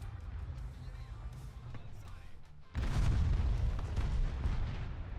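A heavy tank cannon blast in War Thunder booms suddenly midway, followed by a rumbling tail, over ongoing game sounds and someone talking.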